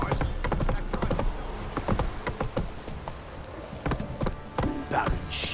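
Geralt's horse Roach trots in Witcher 3, hooves clip-clopping in a steady near rhythm throughout, with harness rattles and a brief snort or whinny near the end.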